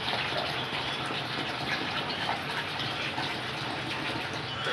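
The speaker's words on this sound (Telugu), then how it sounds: "సరే ముక్కలు శుభ్రంగా కడిగేసుకున్నాను నేను చేపనైతే" Fish pieces being rinsed under running water, a constant close gushing stream from a tap, steady and fairly loud with no talk.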